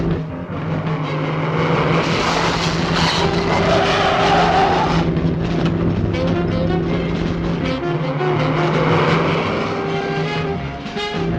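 Car with failed brakes skidding on a winding road, loud continuous tyre screech and engine roar rising and falling, dense and close, with no talk over it.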